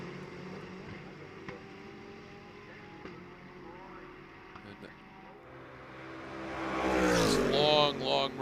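Ferrari GT race car in a Blancpain GT World Challenge America race at Road America, its engine building to a loud, close revving pass near the end while commentary talks on underneath.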